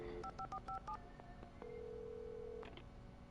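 A telephone being dialed in the video game Alan Wake Remastered: a quick string of keypad tone beeps, then a steady electronic tone holding for about a second, quiet and without speech.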